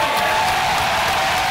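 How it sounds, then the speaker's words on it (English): Workers watching a vote in the Missouri House chamber break into applause, a dense, loud burst of clapping with some cheering that lasts the whole brief moment. "They were told to hold their applause, but it didn't matter."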